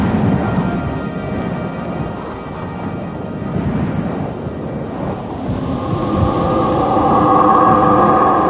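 A thunderstorm sweeps over a Maya forest, with dense steady rain and deep rolling thunder building in loudness toward the end.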